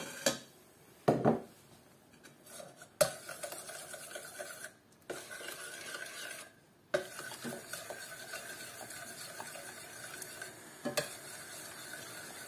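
A spoon stirring a spoonful of honey into sugar syrup in a pot, scraping and swirling close by in irregular strokes with a few clinks against the pot, no voices.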